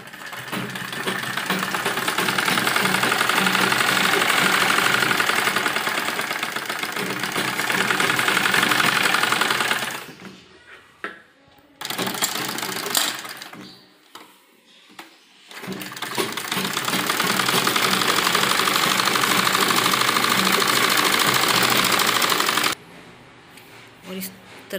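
A sewing machine stitches fabric for a baby frock in long, steady whirring runs, with its rapid needle chatter close and loud. The runs stop for short pauses and then start again.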